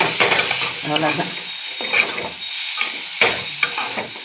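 Raw plantain frying in a pan, stirred in repeated scraping strokes over a steady close sizzle, with brief talk in the middle.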